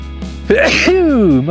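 A single sharp sneeze bursts out up close, trailing into a drawn-out voiced exhale.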